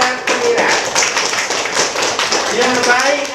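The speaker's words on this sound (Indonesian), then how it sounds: "Ya, tepuk tangan apa untuk Anugrah dan Amira" Children in a classroom clap their hands in a loose, uneven patter of rhythmic claps, close by, with some voices mixed in.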